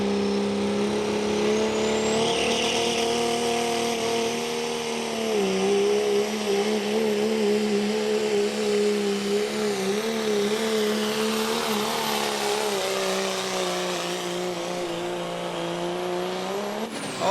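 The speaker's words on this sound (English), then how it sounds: "he is spooling up and getting ready to take off here" A 1991 Dodge diesel truck at a drag event spools up its engine with a steady, loud, rising drone, then races off, the pitch climbing and holding through a long continuous run.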